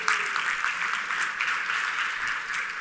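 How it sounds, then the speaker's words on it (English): Steady applause from an audience, a dense, even wash of clapping that holds at a constant level throughout. "Let's give them a round of applause."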